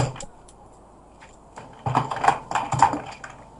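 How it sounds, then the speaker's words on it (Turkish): Fingers typing on a computer keyboard to chat during an EggWars Minecraft match, a quiet scattered tap or two followed by a denser burst of clicky keystrokes near the mic, with no talking. "Yazıyorum."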